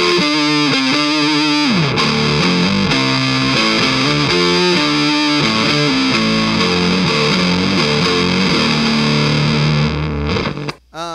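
Electric guitar played through an effects pedal board with a sub octave setting on an Electro-Harmonix Pog, a loud, thick distorted riff with deep doubled low notes that rings steadily for about ten seconds before cutting off.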